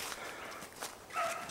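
Hunting dogs bark close by in short, sharp bursts, with some footstep-like rustling underneath and no speech.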